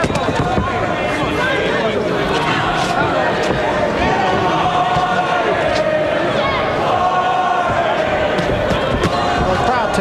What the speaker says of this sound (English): the crowd takes up a chant of boring, boring